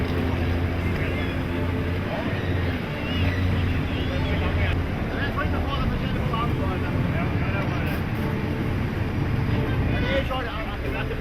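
A boat's engine churns as it spins around in a confined space at a Faroe Islands jetty against surging surf, producing a constant broadband roar of motor and water with no pauses.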